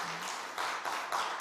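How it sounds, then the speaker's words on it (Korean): Church congregation at a prayer meeting giving a short round of clapping, a few soft bursts of claps, quiet and somewhat distant. "박수 한번 할까요?"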